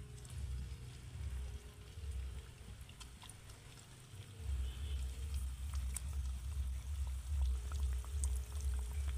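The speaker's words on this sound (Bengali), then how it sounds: "এবার আমি তেলের মধ্যে পটাটো রোলগুলোকে ভেজে নেব" Potato rolls fry in hot oil over a medium flame, giving a steady bubbling sizzle that swells louder partway through, close up with no talking.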